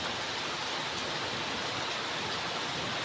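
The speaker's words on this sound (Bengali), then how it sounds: "ধীরে ধীরে বৃষ্টি হইতে আছে দেখেন" Gentle rain falls steadily over a village, a soft continuous hiss of drops with no distinct pauses or other sounds.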